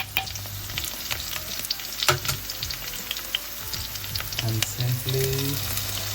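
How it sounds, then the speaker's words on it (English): Aloo gobhi with masala sizzles steadily in a hot pan while a spoon scrapes and stirs through the potatoes and cauliflower, with brief soft speech over the continuous frying. "Stir it again, the masala."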